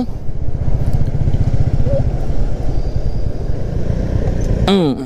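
A motorcycle engine drones steadily at close range on a highway near Kolaghat, with road and wind noise throughout and a brief high whine near the end.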